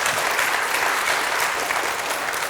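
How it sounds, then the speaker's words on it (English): Conference audience at Lambda Days 2022 claps warmly after a talk, a dense, even round of applause filling the room without a break. "let's give a warm round of applause"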